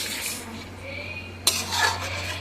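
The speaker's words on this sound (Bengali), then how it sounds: "এবার মাংস আর আলুটা ভালোভাবে ঝোলের মধ্যে মিশিয়ে নেব।" Meat and potatoes stirred into a chicken curry gravy in a pot, with a spoon scraping and clinking against the metal in short strokes, one sharp knock near the middle, over a steady low hum.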